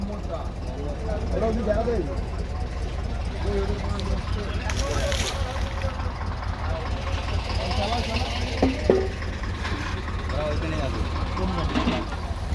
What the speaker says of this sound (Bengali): কুয়াশা কাটতে আবারও আমাদের বোট এগিয়ে চলেছে সুন্দরবনের দিকে